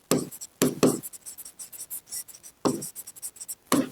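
Writing out a Class 10 trigonometry exercise solution by hand: close, scratchy strokes come in short bursts separated by brief pauses.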